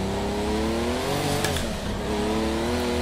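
A car's turbo whines steadily over a loud, constant engine drone while racing in Project Cars 2, with a brief sharp spike near the middle.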